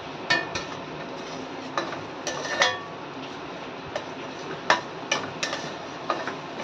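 A spoon stirs and sautés semolina sheera with sugar in a pan, giving scattered metallic clinks and scrapes against the pan over a steady low background, with no voices.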